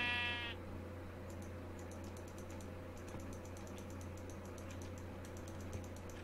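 A sheep bleats once, short and clear at the start, in the Minecraft video game, followed by quiet game ambience and soft rapid keyboard clicking.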